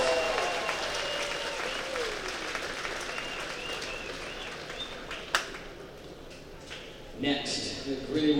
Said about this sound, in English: Please again give AJ and his family a big round of applause.